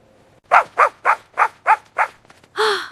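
A dog barks six times in a quick, even series, each bark loud and close, then gives a longer drawn-out yelp or whine at the end.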